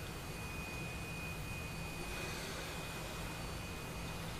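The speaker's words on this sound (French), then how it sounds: "On va mettre en route le deuxième moteur." Steady jet engine roar with a high whine, continuous and fairly loud throughout: the second engine of a Su-27 Flanker spooling up in the DCS World flight simulator cockpit.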